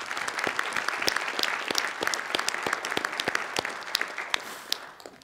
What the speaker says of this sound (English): It'd be nice to have a round of applause for David and his service.